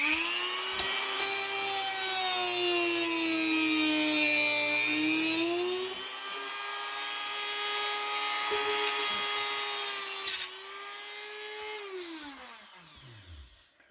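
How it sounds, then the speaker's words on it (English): A rotary grinder cuts off a coupler part on a 3-rail model train car, a loud rising whine that bogs down and recovers under load, stops briefly, then spins again and winds down at the end. "I'm going to try to grind it off"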